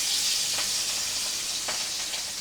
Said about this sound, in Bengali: সুন্দর করে মাছগুলো ভেজে নিচ্ছে।